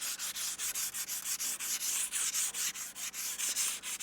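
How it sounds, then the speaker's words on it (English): Wood is hand-sanded to smooth it in an off-grid African setting, with rapid regular back-and-forth rasping strokes, about four per second, close and steady with no talk. "then let's sand it down"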